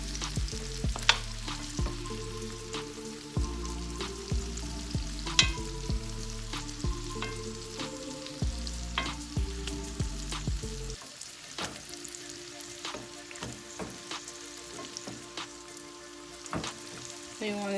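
Lamb chops sear in hot oil in a pan while being basted, a steady crackling sizzle with scraping and tapping of the spoon against the pan, loud and close, over low background tones that drop away partway through.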